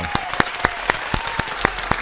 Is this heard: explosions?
no